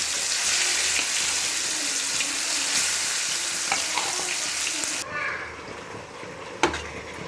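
Marinated chicken dropping into hot oil with cinnamon, cloves and bay leaf in a pot, a loud bright sizzle that cuts down abruptly partway, followed by a quieter frying hiss and a single clank.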